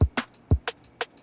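A programmed trap hi-hat with its treble cut plays in a steady, close rhythm alongside punchy low kick hits, each tick soft and dull rather than bright, with no voices.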